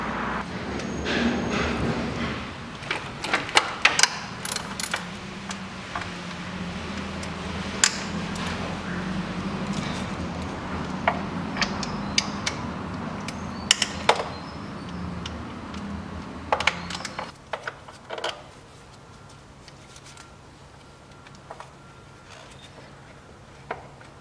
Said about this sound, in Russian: И откручиваем головкой на 10 крышку.